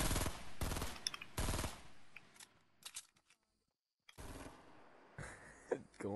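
Gunfire in the video game Fortnite: several loud bursts of rapid automatic fire with metallic mechanical clatter, broken by a short silent gap before more shots resume.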